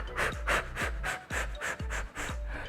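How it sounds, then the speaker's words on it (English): Quick, short breaths demonstrated as a calming technique for anxiety, a steady run of about eight rhythmic panting exhalations close to the mic with no talk. "take short breaths such as this"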